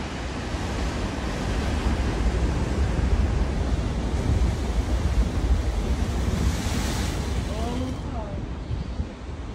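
Ocean surf pounds the shore at Morro Bay, a continuous loud wash of breaking waves mixed with wind buffeting the microphone, and faint voices briefly near the end.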